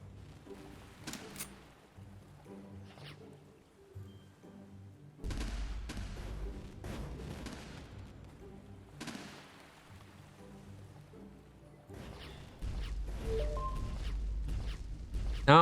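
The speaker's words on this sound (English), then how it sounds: "No, I keep shooting." Gunfire from the shooting mode of the video game DemoDive Drill Deal, heard as sharp bursts and booming low-end shots in loud clusters, mixed with game sounds and ambient rumble across the clip.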